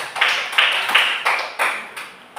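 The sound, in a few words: class clapping for group 2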